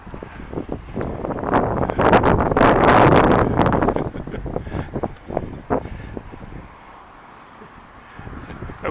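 Strong wind gusting across an outdoor closed construction site, loud and rough through the first half with heavy buffeting on the microphone, then easing to a steadier lower rush with intermittent bursts.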